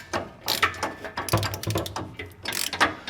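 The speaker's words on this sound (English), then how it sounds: "I have a short well 15/16 on a 1/2 inch ratchet here. So that's going to be our method of tightening this down" Short bursts of ratcheting clicks come from a 1/2 inch ratchet with a short 15/16 socket tightening hardware on an underbed fifth wheel hitch kit, in several quick close-up strokes with brief pauses between them.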